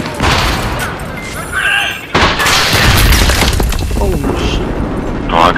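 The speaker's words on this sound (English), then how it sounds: "Grenade." A grenade going off in the Battlefield 3 video game during close-quarters fighting at Ziba Tower, a heavy boom amid loud gunfire and chaotic combat noise, with someone talking over it.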